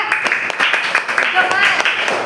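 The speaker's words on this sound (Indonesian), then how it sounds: "murid yang tepuk tangan buat Mas Ardia" Students in a classroom clap for a classmate, a quick run of hand claps heard close and fairly loud, mixed with voices talking over them.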